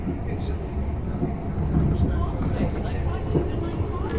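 Inside a packed train heading to London during the Christmas rush, a constant low rumble of rolling carriages fills the space, with faint murmuring passengers and occasional clacks over the steady drone.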